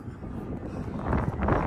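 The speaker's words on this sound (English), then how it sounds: "It is a little bit windy" Wind buffeting the microphone on a cruise ship balcony aboard the Carnival Panorama, a steady broadband rush that swells louder toward the end.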